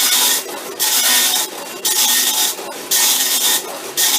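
Harsh, buzzing clatter from a vintage tractor feed printer on a Commodore PET in rhythmic bursts, loud and close, with short gaps between passes of the print head.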